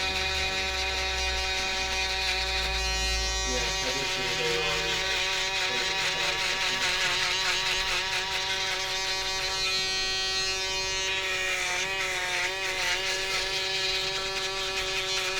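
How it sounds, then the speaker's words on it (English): Babyliss electric shaver buzzing steadily through hair up close, a continuous bright motor whine whose pitch wavers slightly as the head moves across the scalp, with no talking. "I'm going to move on to the Babyliss shaver"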